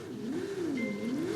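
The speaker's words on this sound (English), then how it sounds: "So you're revving up then." Car engine in the Dangerous Driving video game revving steadily, its pitch rising and falling in smooth waves, loud and continuous with no talk over it.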